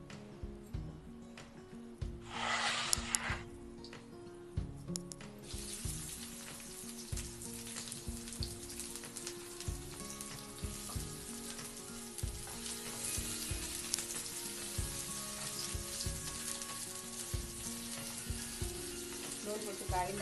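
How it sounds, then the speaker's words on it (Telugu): Onion pieces and green chillies frying in about two tablespoons of hot oil in a kadai for a spicy mango chicken curry, giving a soft, even sizzle with faint ticking of the utensil and no talking. "నూనె కొంచెం కాగిన తర్వాత ఉల్లిపాయ ముక్కలు పచ్చిమిరపకాయలు వేయాలండి."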